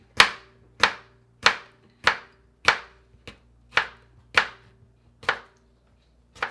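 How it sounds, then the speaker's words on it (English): A knife slicing a cucumber into thin slices on a cutting board, producing about ten crisp, evenly spaced chops in a steady rhythm, close and distinct with quiet gaps between strokes. "then I cut pretty thin slices through the cucumber like that"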